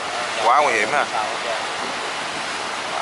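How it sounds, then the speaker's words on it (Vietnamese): Water gushes steadily through an open sluice gate on a river estuary, a broad continuous roar of rushing flow with a person speaking briefly over it. "Nước chảy mọi người xem nè, quá trời chảy luôn à"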